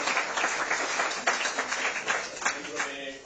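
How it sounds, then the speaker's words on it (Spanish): An academic seminar audience applauds at the close of a talk on monetary union dynamics, a mid-level spread of clapping with a few louder individual claps and some voices mixed in. "Un aplauso para todos"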